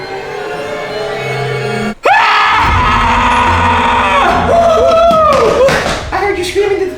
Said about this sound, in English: I heard you screaming